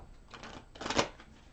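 A deck of tarot cards is shuffled at close range: soft papery riffles build into one short crisp burst before trailing off.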